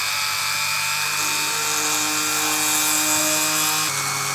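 A power drill bores through a metal dog tag, a loud, steady whine with rising pitch shifts as the bit bites in, heard close and alone.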